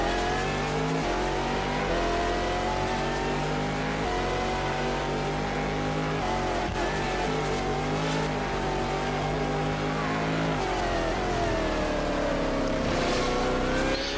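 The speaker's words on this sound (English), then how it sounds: "God, that Ferrari sounds kind of cool." A Ferrari race car engine in a racing video game's American Le Mans Series 1000 km race at the Nürburgring howls at high revs, rising and falling through gear changes with sharp shifts, loud and continuous throughout.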